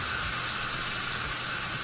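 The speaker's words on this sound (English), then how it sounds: "That malt will start mixing with that pork. Ooh, there it goes. It'll sizzle a little bit." Pork tenderloin and malt beer sizzle in a hot pan, a steady close broadband hiss with no breaks and no talking.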